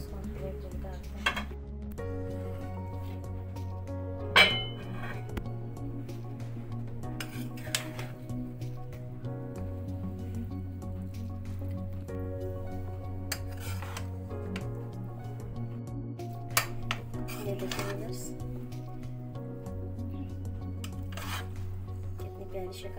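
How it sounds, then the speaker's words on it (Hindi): Beef biryani being served from a cooking pot onto a plate, with a spoon scraping and clinking against the metal pot, soft stirring and rubbing sounds under a steady background hum. "अब इसको हम निकालते हैं प्लेट पे।"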